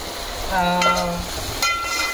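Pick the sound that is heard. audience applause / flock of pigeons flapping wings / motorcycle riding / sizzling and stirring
sizzling and stirring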